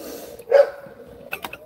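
Dogs, Cane Corsos, give a short close bark followed by a couple of quicker yips, brief and sharp against a quiet indoor background.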